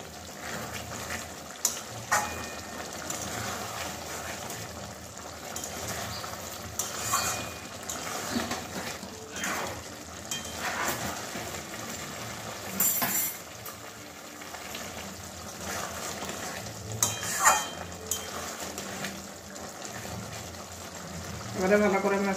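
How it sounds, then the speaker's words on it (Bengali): Duck egg curry with cauliflower and peas is stirred in a pan, giving repeated scraping and clanking strokes over a steady simmering sizzle, with a voice talking at times. "এবারে মিশিয়ে নেবো ভালো করে।"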